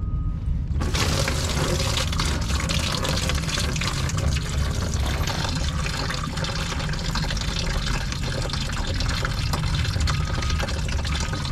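Pink coolant draining from a Toyota Prius hybrid inverter water pump, a loud steady rushing gush of liquid that starts abruptly and pours continuously without pause, close by and alone.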